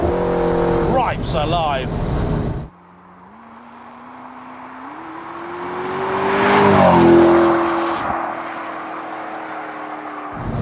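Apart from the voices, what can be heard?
McLaren 650S supercar accelerating in second gear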